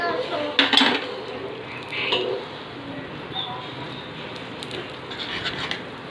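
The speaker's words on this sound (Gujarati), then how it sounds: "પછી આને 2-4 મિનિટ હલાવવાનું જેથી કરીને કાજુ અને બદામ થોડા શેકાઈ જશે" Cashews and almonds are stirred in a pan for dry fruit chikki, giving close scraping and clinking of a utensil against the pan in loud bursts early on, then softer rustling stirs.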